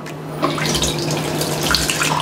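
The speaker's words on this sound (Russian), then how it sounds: "сливаем обратно воду в кастрюлю" Water pours steadily from a jar of raspberry mojito compote back into a pot, a close, continuous splashing stream with no talk.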